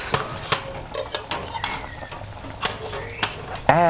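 A spoon stirs curried chicken in a pot, making a string of sharp scraping clinks over a faint sizzle, with a brief voice at the very end.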